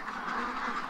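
A small pet duck quacking close by at dusk, a steady run of nasal calls filling the moment with no talk over it.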